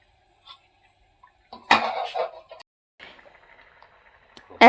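Lid placed on a pot of Bangladeshi fish curry with stingfish, potato and bitter gourd, a sharp metallic clank followed by a few lighter rattles, then a softer scrape and a final clatter in a quiet kitchen.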